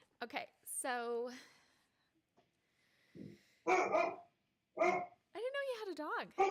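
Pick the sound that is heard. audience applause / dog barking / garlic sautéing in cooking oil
dog barking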